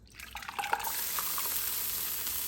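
Sauce for a Thai green curry pours into a jar with a thin liquid trickle and a few small splashes, then settles into a steady wash of hiss, with no talking.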